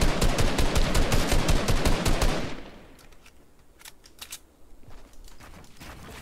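Rapid bursts of video game gunfire in a Fortnite-style battle royale match, a loud dense volley of shots for over two seconds, then fainter scattered shots and clatter.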